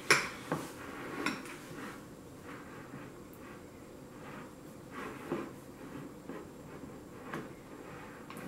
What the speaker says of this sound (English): just spread it around with the spoon